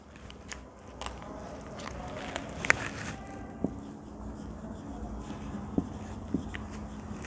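Chalk or marker writing on a classroom board during a physics lesson on light reflection, heard as scattered short scratchy strokes and taps at moderate level over a steady room hum, with no talk.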